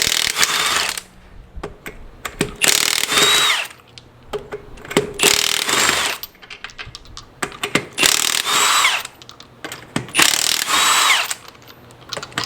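Power tool, an impact gun, removing the wheel of an Acadia, Enclave or Traverse, in loud repeated bursts of hammering rattle separated by short pauses, close by with no talking.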